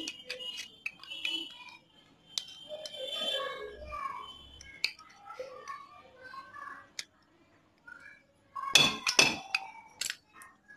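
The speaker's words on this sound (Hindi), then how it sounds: "एक स्क्रू ड्राइवर की मदद से इसको बाहर निकाला जाएगा।" Metal parts being pried and clinked with a screwdriver while removing a worn component from a motorcycle alloy wheel's speedometer assembly, scattered light clicks and scrapes, then a louder burst of metallic clinks near the end.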